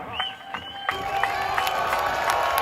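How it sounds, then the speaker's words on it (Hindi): A large crowd at a PTI political rally for Imran Khan cheers and claps in a loud, continuous roar, with whistle-like shouts cutting through the din. "आप सबके पुरजोर इस्तकबाल में हाथ उठाकर तालियों की गूंज में इस्तकबाल कीजिएगा"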